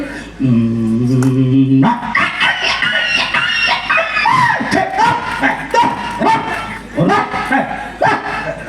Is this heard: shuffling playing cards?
no